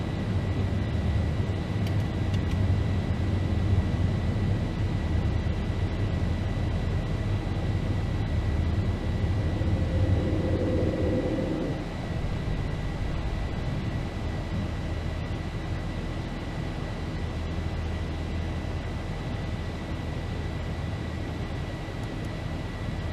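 Airliner engines roar steadily at go-around thrust in a flight simulator, a loud continuous broadband rush with a faint tonal whine, holding level throughout and dipping slightly midway.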